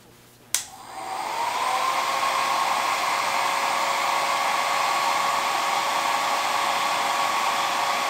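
A hair dryer on its low setting clicks on and then blows a steady, loud whooshing stream of air at magnetic lashes, holding evenly to the end.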